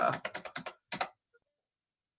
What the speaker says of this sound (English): I'm having difficulty typing.